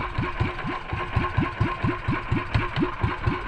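A small boat engine chugs close by in a steady, rapid thumping rhythm, running evenly at low revs after starting, with no voices over it.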